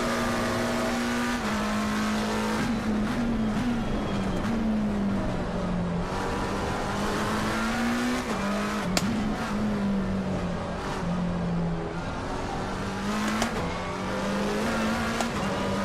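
Race car engines from the Assetto Corsa Competizione sim racing game, played on a PS5, drone loudly and steadily, with the pitch rising and falling through gear shifts, occasional tire squeal and other cars nearby.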